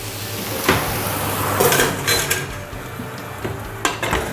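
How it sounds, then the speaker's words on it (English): A metal frying pan holding vegetables, potatoes and peri peri chicken thighs is set into an oven, giving a few loud metallic clanks and scrapes against oven racks amid faint kitchen background. "It's now time to put this frying pan into the oven."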